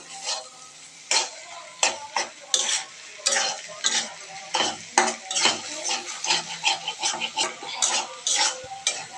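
Egg frying in a pan for noodles is stirred briskly, with repeated clinks and scrapes of a utensil against the pan over a soft sizzle, close and fairly loud.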